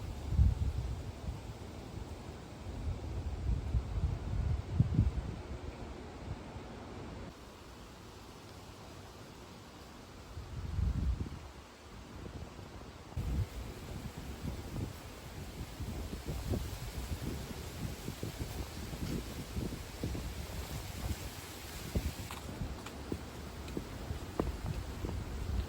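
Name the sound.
strong wind before a storm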